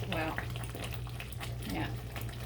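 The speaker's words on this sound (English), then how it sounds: "it is definitely spitting because I just cleaned this stove" Vodka sauce spits and bubbles steadily in a lidded pot on a stovetop, a continuous crackling simmer with low hum underneath and brief voice sounds in the background.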